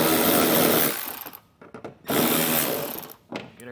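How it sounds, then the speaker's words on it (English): Power tool with an 8mm socket backing out screws from a vehicle's front wheel well, two loud, close whirring bursts with a short gap of rattling clicks between them. "we'll have 3 8mm head screws that we can remove"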